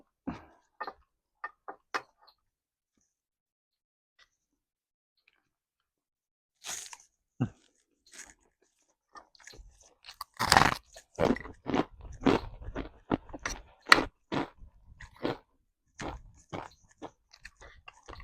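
Crunchy food chewed close to the mic outdoors by a rice field, a few isolated crisp bites, a pause of near silence, then a long run of loud rapid crunching chews.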